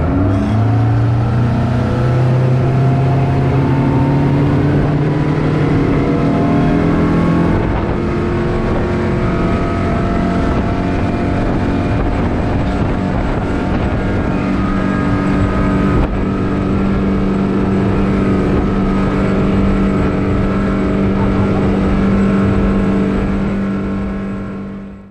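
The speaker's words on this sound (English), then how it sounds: "show you just how quick the boat gets up out of the hole with this new motor" A new 2022 Mercury 115hp outboard motor roars and climbs in pitch as the boat speeds up onto the plane, the engine whine rising and then holding steady at high revs.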